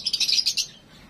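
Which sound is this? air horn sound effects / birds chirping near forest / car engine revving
birds chirping near forest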